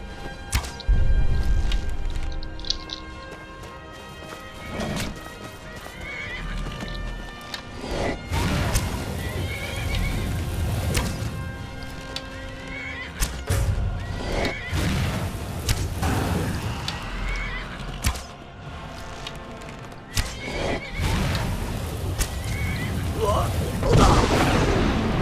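Horse neighs and whinnies in the game Skyrim, repeated several times over hoofbeat clip-clops, loud booming impacts and combat noise, with sharp bursts scattered throughout.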